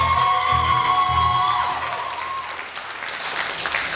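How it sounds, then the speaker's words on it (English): Sustained audience applause for jazz soloists on vibraphone and clarinet at a college jazz studies concert, a dense, steady clapping from a full room with a few cheers, holding loud from start to finish with a sustained tone ringing underneath. "ask for a little bit more applause"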